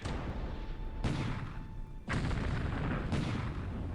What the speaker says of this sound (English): he's actually shelling us now here.